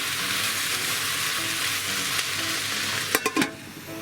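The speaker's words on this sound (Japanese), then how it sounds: "まあちょっと量が多いんで中火ぐらいにしてたまにかき混ぜつつちょっと蓋をして蒸し焼きにして火を通していきます。" Cabbage stir-fries over medium heat in a large batch, a constant close hiss that runs unbroken before a few quick knocks and scrapes near the end, and no one speaks.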